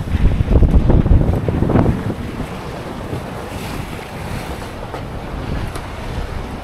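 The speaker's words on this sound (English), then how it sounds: "Got a bit more winds and a bit more speed, but it's pretty rough." Wind and rough sea on a sailing boat with swell on the beam: loud gusty wind buffeting the microphone and heavy wave rushes, strongest at the start then a constant roar, no talking.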